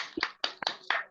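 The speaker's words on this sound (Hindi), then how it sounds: "पहले तो मैं चाहूंगा एक बार सभी लोग अनम्यूट करके एक बार ताली बज जाए" Several people unmuted on a video call clap together in a short, uneven burst of a few sharp claps that are loud and slightly compressed.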